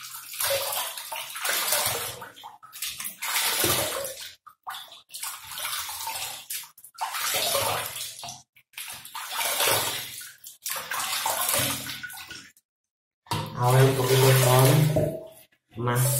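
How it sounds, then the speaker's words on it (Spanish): Water runs from a tap as a woman rinses her face after a 20% glycolic acid peel, a steady splashing flow that rises louder near the end, with her talking over much of it. "Más agua corriente."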